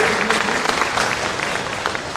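A crowd at a public event claps for municipal councillor Balodi, honoured for naming a road after the Shri Krishna Badri Narayan temple. The applause is dense, close and sustained throughout, with no voices over it.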